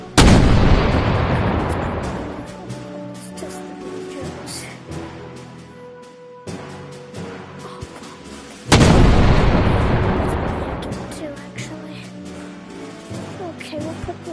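Two loud gunshot-like blasts from a rifle being test-fired for power, the first at the start and the second about nine seconds in, each followed by a long decaying echo.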